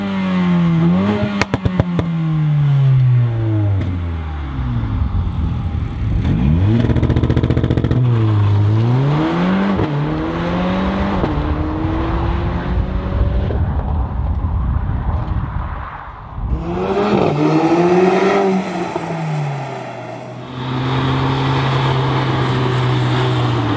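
Mercedes-AMG A45 engine accelerating hard through repeated gear changes, loud and close, with rising revs, sharp drops at shifts, brief lifts off the throttle and renewed pulls.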